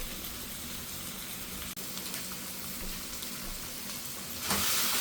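Sofrito frying and sizzling in a pan as a pasta sauce cooks, starting to burn slightly; a steady broadband hiss continues throughout and swells louder near the end.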